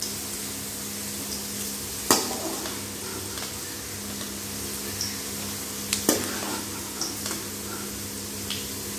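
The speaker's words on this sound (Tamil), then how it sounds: "இப்போ நமக்கு வெண்டைங்காய் நல்லா வதங்கிருச்சு பாருங்கள்." Okra sautés in hot oil in a pan, giving a steady soft sizzle with two sharp clinks of a stirring spoon against the pan and a few fainter taps, no talking.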